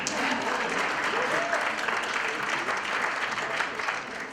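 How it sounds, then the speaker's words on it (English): A crowd at a breakfast summit with welcoming remarks applauds in a sustained, even roar of clapping that fills the room throughout, moderately loud and unbroken. "this is a good time to applaud, actually."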